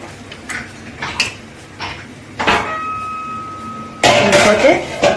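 Cleaned dried fish tipped into a cooking pan, a few close metallic clinks and scrapes followed by a louder burst of sizzling as the fish meets the hot pan.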